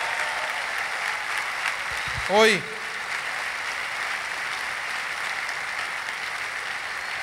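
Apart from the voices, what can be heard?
church congregation applauding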